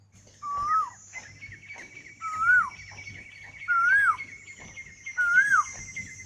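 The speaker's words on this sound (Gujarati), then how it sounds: "અહીં ઝાડવામાં છે ને કોયલ બોલે, ટમરાય બોલે" An Asian koel repeats its rising, looping call four times at steady intervals from trees near a village, with a thin steady background tone and other faint birds.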